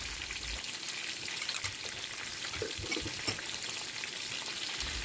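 Beef with onion and tomato paste sizzling and frying steadily in a pan, a soft continuous crackle with occasional faint stirring clicks, close and fairly quiet.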